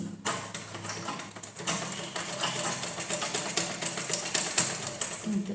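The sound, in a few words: sewing machine stitching a blouse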